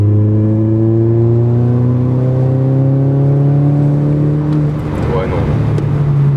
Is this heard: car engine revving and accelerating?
yes